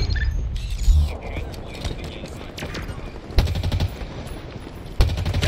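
A gun firing in a Halo Infinite Big Team Battle match, a few short bursts of rapid shots with mechanical clicks in between, under some faint voice and game noise.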